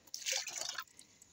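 Fresh water with a little vinegar is poured out for chickens in one short, soft splashing gush that fades into faint drips, quiet and nearby with no voices.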